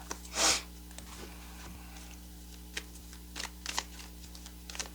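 Playing cards are shuffled in a few faint, brief riffling bursts against a quiet humming room, with no talk.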